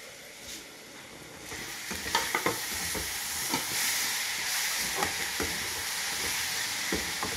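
A vegetable fry sizzling in a pan at risk of burning, a continuous hiss broken by repeated scraping stirs and small crackles, moderately loud and close.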